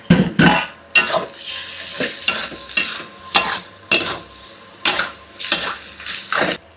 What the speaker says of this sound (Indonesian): Baru di sini aku masukin bawang merah dan bawang putih. Tinggal tumis sampai harum.